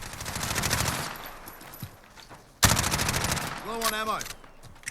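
MP5K submachine gun in Call of Duty Modern Warfare, rapid automatic bursts rattling close and loud, a break and then another sustained burst, with a voice-like tonal sound near the end.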